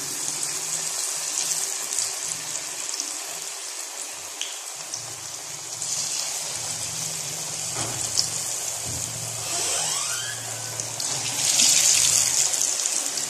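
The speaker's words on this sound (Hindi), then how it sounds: "तो ये देखिए, मैं हाथों से पकौड़े डालूंगी इसमें।" Pakoras frying in hot ghee in a pan, giving a steady dense sizzle and crackle throughout, growing slightly louder near the end, with no talking.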